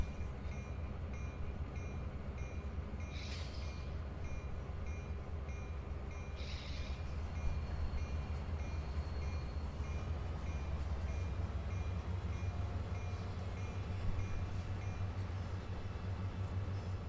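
A long freight train loaded with wood chips rolls steadily through a Trainz railroad simulation, a continuous low rumble of wheels and cars with faint clicks, moderately distant and unbroken throughout.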